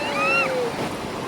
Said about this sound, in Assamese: চাওকচোন কিমান জোৰত সোঁত বৈ আছে।